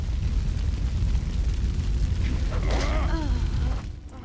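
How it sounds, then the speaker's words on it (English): A huge explosion in the video game Jade Empire roars as a loud, sustained rumbling blast that fades out abruptly near the end. "that's a big explosion."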